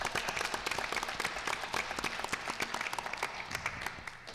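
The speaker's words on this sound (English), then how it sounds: "I think we should have one more round of applause for Ms." A board meeting room breaks into a round of applause, with a mix of individual claps ringing out fairly close as the clapping holds steady before thinning slightly toward the end.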